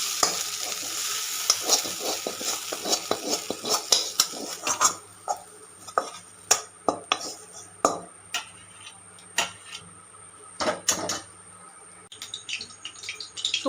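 Dried red chilli, cardamom, cinnamon and bay leaves tempering in hot oil give a steady sizzle, then a string of sharp spatula clacks and scrapes against the pan, close and fairly loud.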